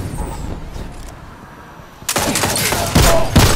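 Loud gunfire in a video game: after a quieter stretch, a rapid automatic burst of close, harsh shots fires steadily to the end.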